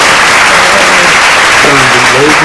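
Crowd applause as a sound effect, dense and loud, with someone talking over it.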